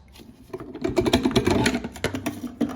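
Sloan Flushmate pressure canister cartridge being slid and threaded clockwise back into place, a rapid series of close plastic clicks, scrapes and rattles over a few seconds.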